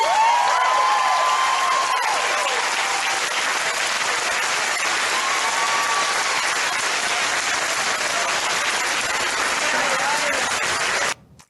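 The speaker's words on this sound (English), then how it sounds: "there's nothing like the applause" Sustained applause from a large crowd fills the space, dense and steady with a few whoops and cheers, continuing for about eleven seconds before cutting off.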